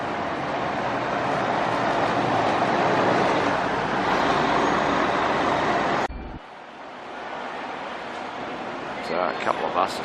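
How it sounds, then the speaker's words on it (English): A Route 477 bus passes through a Sydney street with loud, steady engine and road roar that cuts off abruptly, leaving quieter street ambience with a few short knocks. "The Route 477 bus coming through"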